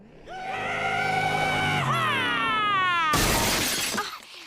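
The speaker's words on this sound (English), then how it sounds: "Peter floored it at an insane speed and smashed straight through the wall of his house" A cartoon car in Family Guy smashes through the wall of a house: a loud burst of crashing, shattering debris that follows a long rising scream, all close and loud.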